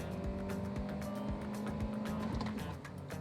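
A 2023 Hyundai Exter with a 5-speed manual gearbox launches hard from around 5,000 rpm, its engine droning steadily with a faint tire squeal, heard fairly quietly from inside.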